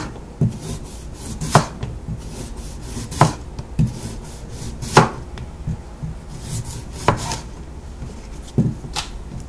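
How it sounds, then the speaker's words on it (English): A knife chops sweet potatoes into medallions on a board, with sharp cuts coming every second or so and a soft scraping rub between them. The chopping is close and clear, and nobody speaks. "Cut it in medallions."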